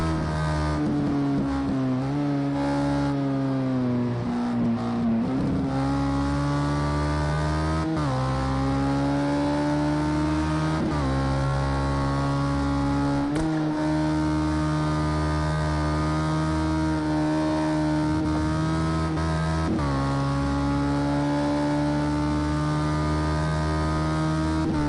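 Race car engine on a quick lap at the Dubai circuit in Project CARS 2, a GT car heard on board: continuous loud drone rising through the gears, with sharp shifts and brief lifts, no talk.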